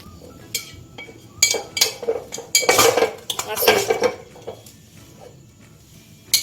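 Jhal muri is mixed with mustard oil in a bowl, giving uneven clinks and scrapes of a spoon against dishware in quick bursts, fairly close, with quieter gaps between.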